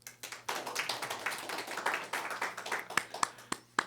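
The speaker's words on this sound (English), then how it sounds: "Just clap your hands." A small studio audience at a radio in-studio session claps hands briefly, a scattered ragged patter that thins into a few sharp isolated claps near the end, fairly quiet.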